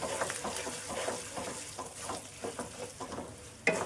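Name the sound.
stirring ginger, curry leaves and asafoetida in a pan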